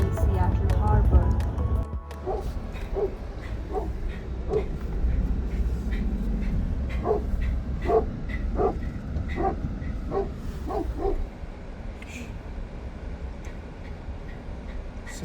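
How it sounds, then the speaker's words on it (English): Several dogs barking and yipping in quick bursts over a steady rumble of heavy Seattle traffic, with people talking now and then. "In the middle of the traffic, we have a doggy party."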